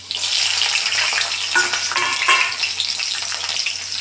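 Mustard seeds, garlic and green chillies sizzle in hot oil with a loud, dense crackle and spit, plus occasional stirring scrapes partway through.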